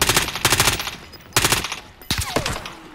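Bursts of automatic gunfire come from the Call of Duty video game, Fortune's Keep map. Rapid rattling volleys are loud and close, with a few separate sharp shots between them.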